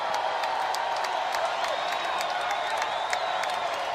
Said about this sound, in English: crowd comes into it for Texas